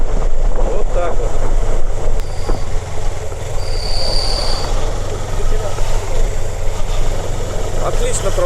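A Suzuki GSR250 motorcycle engine runs steadily while riding through city traffic, with a continuous low drone and road and wind noise throughout, while a rider talks over it.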